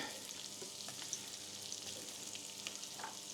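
Onion slices frying gently over low heat in unsalted butter in a pan make a soft, faint continuous sizzle with light crackles and occasional stirring taps, close up and without speech.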